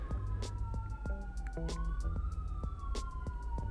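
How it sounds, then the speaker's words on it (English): Ambulance siren wailing near a highway, a steady sweeping tone rising and falling across the clip at moderate distance, with no talk. "Ambulance."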